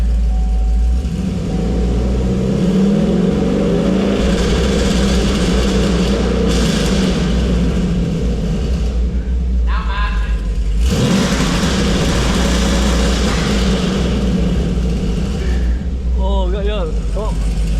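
A 5th gen Camaro engine fires up and rumbles at idle, then is brought up slowly to 3,500 rpm and held with a loud, steady drone, while people talk over it near the car.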